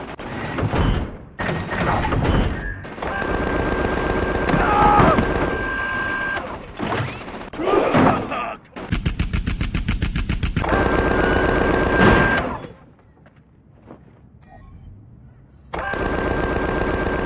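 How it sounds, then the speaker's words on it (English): Rapid machine-gun fire in the Tales from the Borderlands video game, long loud automatic bursts separated by brief gaps and a quieter lull, with bright mechanical rattling and thuds throughout. "Please stop shooting me."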